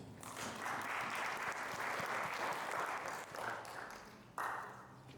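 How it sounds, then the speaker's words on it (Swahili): A church congregation claps in applause for the word of God, a dense, sustained patter of many hands that dips briefly before a final burst and fades. "tunaweza kupigia neno la Mungu makofi"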